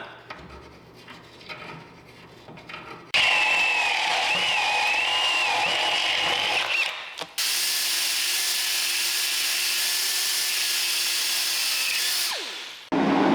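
A power drill bores a hole in a metal pipe nipple fitting during a Datsun 520 rebuild. After some quiet handling noise, the drill gives two long, loud, steady whining runs separated by a brief break.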